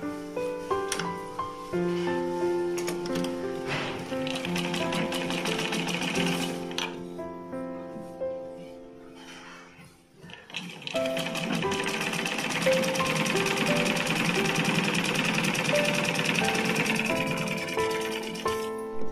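A sewing machine stitches a blouse in steady rapid mechanical runs, pausing briefly near the middle before resuming, close and fairly loud with no voices.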